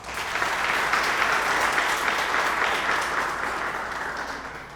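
Sustained applause from a university audience at NED, steady and dense clapping throughout, loud and near, with no talk over it.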